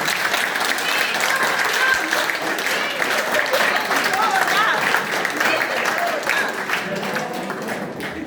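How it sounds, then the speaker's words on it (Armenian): Steady, sustained applause from a large crowd, dense and loud throughout, with no pauses. "շնորհավորենք ու ծափահարենք"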